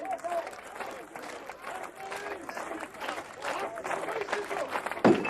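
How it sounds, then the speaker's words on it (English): Crowd at the 1988 World's Strongest Man cheering on a struggling competitor, a steady wash of shouts and applause beneath a commentator's voice, with a sharper burst near the end. "the crowd getting behind him now"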